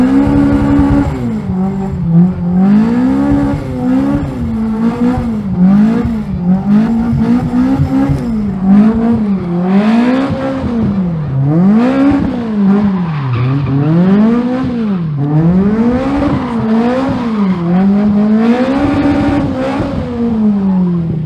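A loud Toyota Corolla KE70 engine with individual throttle bodies revs up and down repeatedly in rising and falling sweeps, a sharp, raspy intake howl, close by and continuous.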